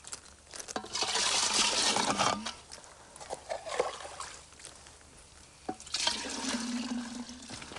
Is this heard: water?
yes